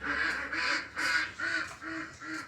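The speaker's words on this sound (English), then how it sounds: "The ducks are saying hi." Ducks quack in a steady series of about six loud, evenly spaced calls nearby.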